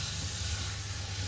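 Raw masala for a prawn biryani frying in a pan on a low flame, a steady soft hiss and gentle sizzle held evenly throughout, close and unbroken, with no talk.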